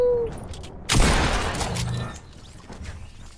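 A single heavy sniper rifle shot booms in a battle royale video game, loud and close, followed by a long fading echo and rumble, with faint game sounds and no clear talk.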